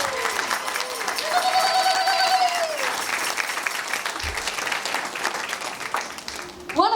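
Sustained audience applause fills a hall at an Indigenous artist-activist awards ceremony, steady and dense for several seconds, with a few cheers and whoops rising above the clapping.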